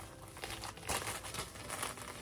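Plastic packaging from a Claire's Beanie Boo order crinkles and rustles continuously while being opened, with a sharper burst of crackling partway through, fairly close with no speech.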